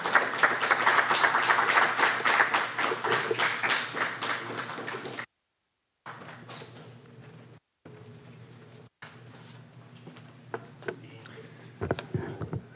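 Audience at a Nomadic Press poetry reading celebrating nature clapping for a reader, a dense round of applause that thins and fades, followed by scattered quieter sounds with brief gaps.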